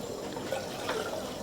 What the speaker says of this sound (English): So all the water goes in and gently you stir it.